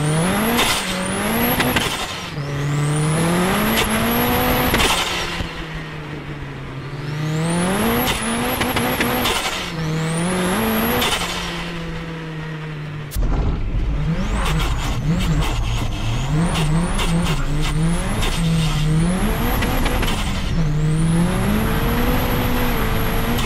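A white Nissan S15 drifting, its engine climbing and falling through repeated high revs while the tires squeal, loud and continuous, with a burst of rapid rev surges near the middle.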